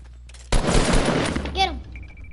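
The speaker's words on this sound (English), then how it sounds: "I hear sniper shots from the big tower." A short, loud burst of sniper gunfire crackles in the Fortnite video game, lasting about a second before fading into quieter game sounds.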